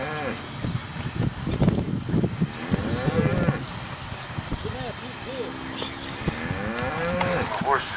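Cattle moo loudly at a cow clinic, several long low calls one after another close by, with people talking and other farm noise around them.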